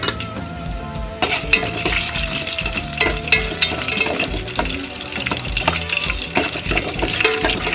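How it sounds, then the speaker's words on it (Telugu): Tempering seeds and garlic crackle and sizzle in hot oil for a drumstick dal, a dense continuous frying hiss with frequent sharp pops and a few stirring scrapes, close and fairly loud. "తాలింపు గింజలు వేసాయి, ఎల్లిపాయ వేసుకున్నా"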